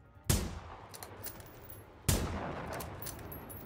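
Two sharp gunshots from the video game Generation Zero crack out about two seconds apart, each leaving a long, noisy reverberant tail, with no talking over them.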